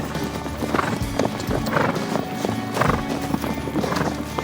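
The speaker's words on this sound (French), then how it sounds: "Je ne résiste pas à un petit plaisir, galoper au milieu des Criollos" Several Criollo horses galloping close by, their hooves drumming in steady bursts of clip-clop with neighs and whinnies rising over the running herd, loud and continuous throughout.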